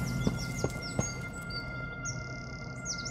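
Birds chirp in a video game world, with quick, high descending tweets repeating in a loose rhythm and then a longer warbling call. Three soft knocks sound early on, and a low steady hum runs underneath. All of it is faint and distant.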